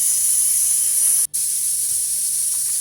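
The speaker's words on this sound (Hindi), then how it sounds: "कुकर में देखिए हमारे सीटी आनी शुरू हो गई हैं, छोले उबल रहे हैं" A pressure cooker boiling chickpeas in a village kitchen lets out a loud, continuous hissing whistle, briefly cut off for a moment before it resumes.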